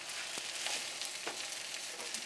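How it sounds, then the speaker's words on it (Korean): Rice is stir-fried with chopped napa cabbage kimchi, perilla leaves, seaweed flakes and sesame oil in a pot, giving a soft sizzle with a few scraping stirs, faint and close with no talk. "밥을 잔뜩 넣고 맛있게 지금 볶아내고 있습니다."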